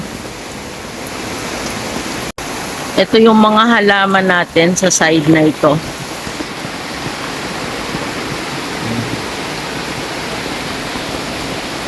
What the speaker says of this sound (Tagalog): Yan yung ating lakas talaga ng ulan.